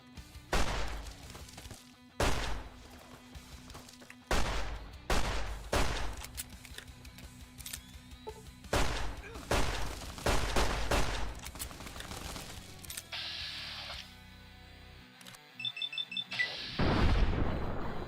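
Repeated bursts of gunfire boom through the video game Fallout: New Vegas, several loud separate volleys spaced by short pauses, followed by sharper electronic beeps and a final noisy crash.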